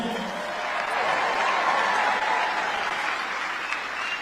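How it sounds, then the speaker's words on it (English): A crowd breaks into loud, continuous applause for a woman being honored at a live broadcast event, clapping swelling and staying steady with faint chuckles and murmuring mixed in. "Give her a round of applause, please."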